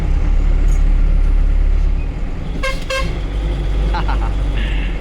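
Two short bus horn honks sound in quick succession midway through, over steady road and engine noise on the Agumbe Ghat, followed by a few faint higher tones.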